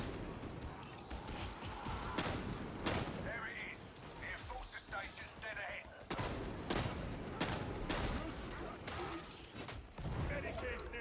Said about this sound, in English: pressing F with a slug loaded into your shotgun and just blapsing whatever poor special end up spawning in front of you